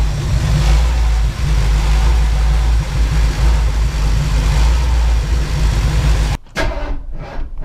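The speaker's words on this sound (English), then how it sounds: "I'm back to running like crap again." A 1978 Ford Bronco with a 351M V8 runs rough, its loud, close engine rumbling unevenly with surging low throb for several seconds before cutting off abruptly near the end.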